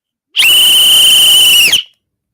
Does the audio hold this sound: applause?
no